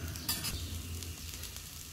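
Oil sizzles under a dosa cooking in a pan, a soft close crackle with a couple of quick scraping stir sounds near the start.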